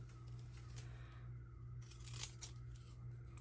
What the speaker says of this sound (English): I think those were my stamp scissors.